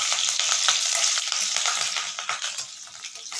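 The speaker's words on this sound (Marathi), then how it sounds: "हे बघा जिरे टाकलेलं आहे, हिरवी मिरची टाकत आहे" Cumin seeds and green chillies sizzle loudly in hot oil, a bright crackling hiss close up with quick scraping stirs, easing slightly toward the end.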